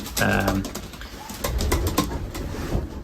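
Racing pigeons coo in a loft at feeding time, a soft repeated burble layered with a brief clear call and light rustling, close by and steady throughout.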